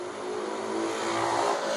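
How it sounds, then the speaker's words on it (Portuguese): A motorcycle passes by outside, a steady loud engine drone that swells slightly toward the end of the short stretch, heard alone with no talk. "Obrigado, moto dos infernos."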